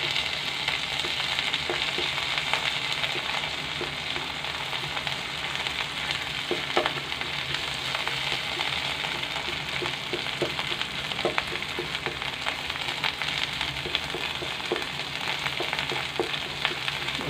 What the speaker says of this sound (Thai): เราผัดพริกแกงให้หอมก่อนนะครับตรงนี้